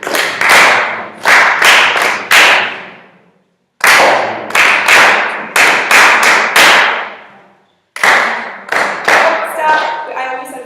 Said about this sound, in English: we're going to clap it with our counts, like we did on the board